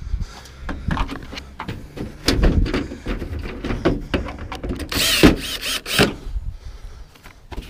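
A part being screwed on by hand while scrapping electronic waste, a series of close ratcheting clicks and scraping metal-on-plastic turns, irregular and busy, with a louder burst of grinding rattles in the middle.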